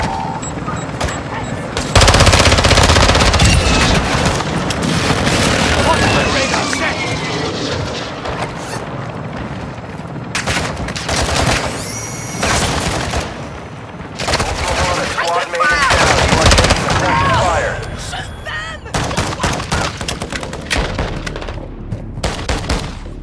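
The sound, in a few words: gunfire in the video game Call of Duty Warzone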